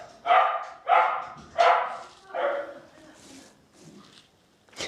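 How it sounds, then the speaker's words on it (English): A dog barks loudly and close in a run of four evenly spaced barks, each fading a little, followed by softer yips and whimpers. "keep showing the clips of the dog barking"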